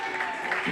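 Audience at an open mic night applauding, a brief stretch of moderate clapping mixed with crowd noise and a voice talking over it.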